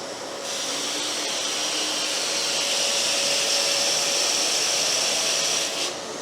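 Stihl wet/dry vacuum cleaner running, a steady loud close-up roar with a constant airflow hiss that holds for several seconds before a slight dip near the end.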